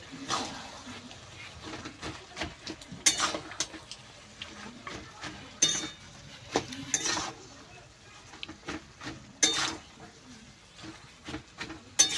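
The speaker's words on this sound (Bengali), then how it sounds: "আর দেব কেটে রাখা বাঁধাকপি আর গাজর। আবার ভালো করে কষিয়ে নেব।" Chopped cabbage and carrot stir-fried in a pan, with scattered scrapes and clinks of a spatula against the pan over a soft background sizzle, arriving in irregular bursts.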